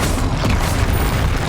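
An explosion from the Confringo spell in Hogwarts Legacy, a dense, heavy boom with a rumbling low end that fills the short moment at steady loudness.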